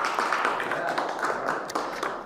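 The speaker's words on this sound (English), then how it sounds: "Round of applause." Audience applause at a live speaking-coaching session, a brief, fairly quiet patter of scattered claps from a small group, with sharp individual hand claps standing out.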